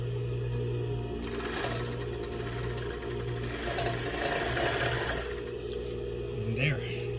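A Willcox & Gibbs 500 overlock sewing machine stitches heavy slack pant material, a rapid mechanical chatter that starts after a second, runs steadily for several seconds over a background hum, then stops.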